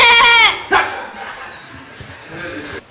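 A man imitates a Hausa goat bleating, giving a loud wavering bleat followed by a shorter cry and a softer trailing bleat, all close and clear with no other voices.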